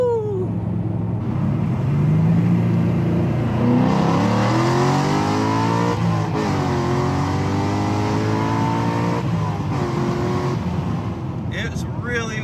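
A Corvette's LS V8 revs hard past 7,000 RPM, its rising and falling harmonics sweeping through long pulls that stay loud and close, with a voice briefly over the engine.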